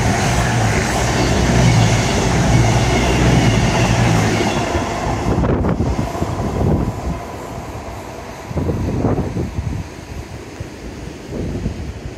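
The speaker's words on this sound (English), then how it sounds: "Happy train, gave me a toot." A train rolls past close by on a seafront railway. A loud, steady rumble and rail clatter fill the scene, with wind buffeting the microphone, and the noise slowly fades as the train moves on.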